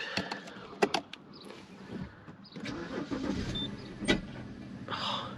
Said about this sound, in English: So the car is still good. Let me give it a start up.